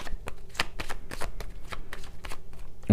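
A deck of oracle cards being shuffled by hand, steady riffling and slapping of cards in a rapid, continuous rhythm, close and clear with no voice over it.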